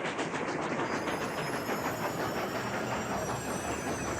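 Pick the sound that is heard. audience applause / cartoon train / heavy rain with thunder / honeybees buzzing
cartoon train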